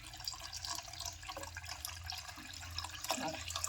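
Boiled water pours and splashes into a pot of sambar in a quiet, gurgling stream, with small drips and sloshes.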